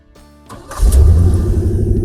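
A 1986 Ford Sierra engine restarting after a no-fuel fault: a short crank, then the motor catches and settles into a loud, steady idle close by.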